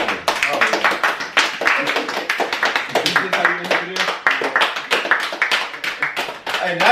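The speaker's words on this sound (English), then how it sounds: "Clap. clap." Rapid hand claps crack out in a quick, uneven run through the whole stretch, loud and close, with speech-like voices mixed among the claps.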